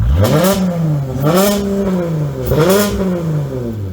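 A car engine with an active exhaust system revs up in three separate bursts, each rising pitch then falling back, loud and close with a crackling exhaust rasp.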